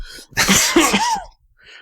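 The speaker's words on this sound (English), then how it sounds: "You already got the coughing and hacking down." One harsh burst of coughing and hacking, close and loud, with a raspy throaty rattle that trails off, heard by itself.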